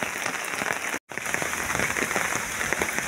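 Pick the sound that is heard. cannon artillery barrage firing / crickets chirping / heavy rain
heavy rain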